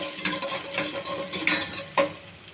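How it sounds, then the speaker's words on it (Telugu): Mustard seeds, onion, green chilli and curry leaves frying in a pan, a soft sizzle under quick stirring strokes, with a few sharp clicks of a spoon against the pan and no talking. "కొన్ని ఆవాలు, ఉల్లిపాయ, పచ్చిమిర్చి, కరివేపాకు అండి. ఇవన్నీ త్వరగా ఎగించాలి."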